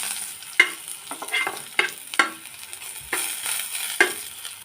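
Dry red chillies, black cumin and garlic sizzle and crackle in hot oil in a pan, a close steady frying hiss broken by a few sharp spits, with no talk.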